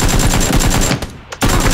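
Rapid automatic gunfire in PlayerUnknown's Battlegrounds, a loud dense burst of repeated shots that breaks off briefly and then resumes at full volume.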